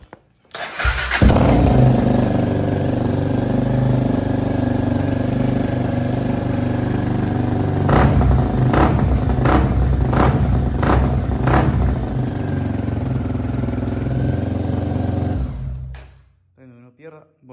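A motorcycle engine fitted with a new Protork exhaust starts cold and idles with a throaty rumble, then gives several quick, sharp revs in a row before settling and shutting off.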